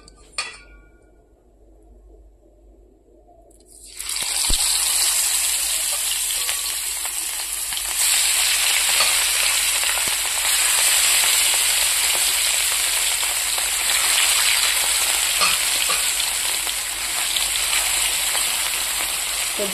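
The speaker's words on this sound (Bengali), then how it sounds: "তো চলো এবার আমি ভেজে নেব মাছগুলো।" Fish pieces dropped one by one into hot oil in a frying pan set up a loud, steady sizzle that starts abruptly after a few quiet seconds and keeps crackling without a break.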